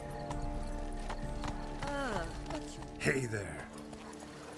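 Horse hooves clip-clopping in The Witcher 3, a steady clopping rhythm under music with a brief whinny-like sweep, and a voice speaks briefly.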